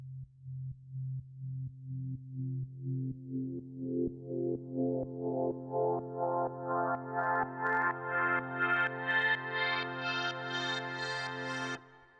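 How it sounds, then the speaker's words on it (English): A Fat 2 analog filter running its Sidechain Effects Riser preset, a steady pumping tone pulsing about twice a second while its brightness sweeps gradually upward, loud and alone, stopping abruptly near the end. "I used one of the preset, the Sidechain Effects Riser, which made it sound like this."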